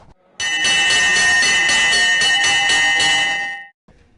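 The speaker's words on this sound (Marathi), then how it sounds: "घंटा वाजली." An electric school bell at Jijamata girls' college in Akluj rings loudly and continuously for about three seconds with a bright metallic ringing, then cuts off abruptly.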